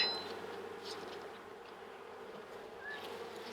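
Honey bees at an open hive during a colony inspection, a soft steady buzzing hum of many insects close by, fairly faint and continuous with no talking.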